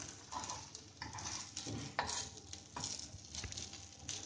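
Bread slices coated in semolina batter fry on a pan with a soft crackling sizzle, broken by a few scraping and pressing sounds of a spatula against the surface.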